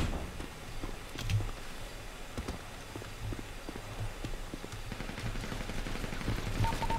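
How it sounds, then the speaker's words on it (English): Gunfire in a GTA roleplay game, with scattered shots and rapid bursts over steady background game noise and no talk. "They shooting."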